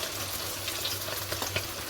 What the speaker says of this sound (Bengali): কোফতাগুলো ভেজে নিচ্ছি আগে।